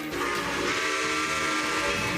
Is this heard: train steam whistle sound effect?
yes